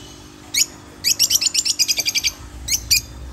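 Young parrots from a batch of ten, crimson-bellied conures among the stock, chirping in quick sharp bursts, a rapid string of about a dozen calls in the middle, close and clear over a quiet hum.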